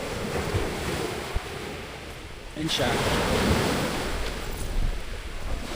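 Choppy sea waves wash along a beach on Limasawa Island in the rough season, a steady roar of surf mixed with gusting wind noise on the microphone, with a brief spoken remark over it.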